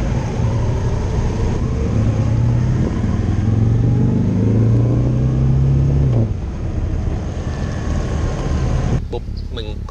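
A Honda Shadow Phantom VT750 V-twin motorcycle engine runs with a slow, low thumping beat, rising in pitch as it revs, then cuts off abruptly near the end.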